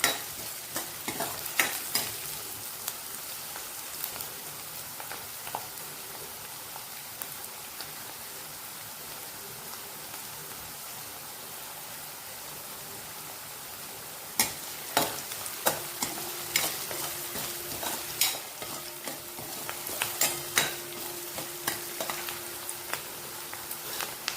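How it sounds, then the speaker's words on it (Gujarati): Manchurian balls fry in a pan with a steady soft sizzle, broken by sharp scraping clicks of a spatula as they are stirred, busiest early on and again in the second half; no talking. "વચ્ચે વચ્ચે આપણે હલાવતું રહેવાનું।"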